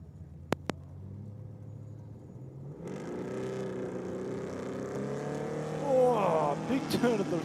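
Hot rod drag racing at Sydney Dragway: a loud engine roars up and accelerates away down the strip after a couple of sharp clicks, sustained and building toward the end.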